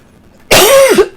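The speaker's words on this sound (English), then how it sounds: "So much coughing this morning." One loud, close cough bursts out sharply and rasps for about half a second, ending in a short throaty catch, alone against quiet background.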